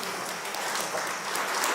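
A congress audience at a philosophy gathering claps in a brief, even burst of applause, moderately loud and without pauses.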